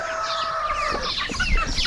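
Meat chickens on a farm clucking and squawking close by, a busy overlapping chorus of bird calls that continues steadily throughout.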